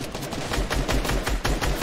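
Rapid automatic gunfire in a shooter video game: a dense, loud string of shots fired close together in quick bursts.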